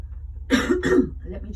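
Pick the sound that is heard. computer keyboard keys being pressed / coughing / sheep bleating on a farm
coughing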